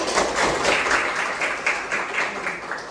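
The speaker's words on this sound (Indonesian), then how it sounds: "Berikan aplaus kepada teman-teman" A room of students applauding in a health institute classroom, steady clapping throughout.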